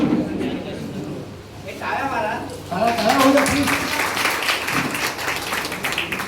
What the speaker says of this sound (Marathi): टाळ्यांचा गजरा होऊ द्या